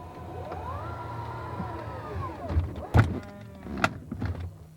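A Tesla Model X electric falcon-wing door motors through its travel with a rising then falling whine, followed by several heavy thunks and latching clunks as it closes, close and clear.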